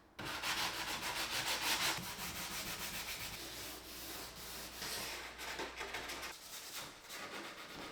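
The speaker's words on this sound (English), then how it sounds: "I went back with 180 grit sandpaper just to kind of scuff up the trim" Rhythmic back-and-forth scrubbing of 180 grit sandpaper scuffing painted wood trim, steady and close with even strokes, easing off toward the end.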